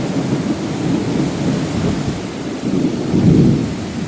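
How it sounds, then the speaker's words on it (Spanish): Thunderstorm over Maryland heard from a home balcony: steady rain hiss with low rolling thunder that swells near the end, continuous and fairly loud, no voices. "mirando la tormenta desde acá del balcón de mi casa"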